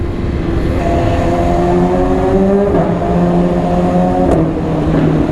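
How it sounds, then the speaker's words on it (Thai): A BMW S1000RR motorcycle engine revs loudly and continuously, its pitch rising and falling with throttle changes, with a sharp blip near the end during a quickshifter upshift. "เตะชิปเตอร์พร้อมกับกระแทกคันเร่งนะทุกคน"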